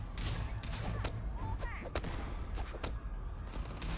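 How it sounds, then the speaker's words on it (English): Gunfire erupts in the Starfield video game, a dense run of sharp shots and volleys crackling over a steady rumbling bed, some overlapping in quick bursts, with a voice speaking faintly underneath. "Why are all these people shooting?"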